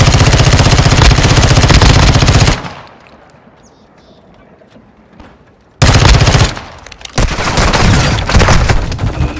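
Loud bursts of rapid automatic gunfire in a Call of Duty: Modern Warfare II match, dense volleys for a few seconds, a quieter lull, then heavy firing resuming close by.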